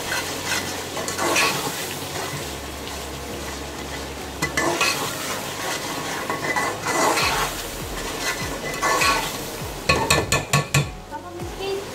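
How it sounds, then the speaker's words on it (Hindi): Biryani masala with ground coriander and garam masala frying in a pan for Bombay-style biryani, stirred with repeated metal scrapes over a constant sizzle, close and steady, ending in a quick run of clinks. "अब हम अच्छी तरीके से भूनेंगे"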